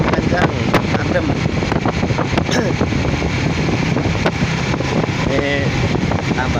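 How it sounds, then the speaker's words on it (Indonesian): Strong wind blowing hard across an outdoor microphone, a loud continuous rushing roar with gusty buffeting throughout. "anginnya cukup kencang, adem"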